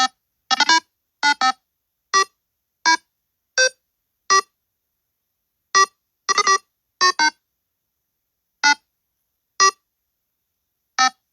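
Short bright electronic blips sound in quick clusters and then sparser single notes, forming a chirpy video game jingle, the Taka song, with silence between.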